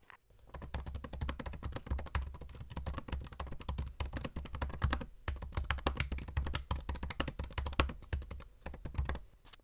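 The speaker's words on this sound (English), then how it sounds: "this is I believe the 4th generation of Butterfly keyboard. And in my opinion, it sounds pretty good and it feels nice to type on" Rapid, quiet clicking of typing on a 2018 MacBook Pro 13-inch butterfly keyboard, dense irregular keystrokes with short pauses, close up with no talk.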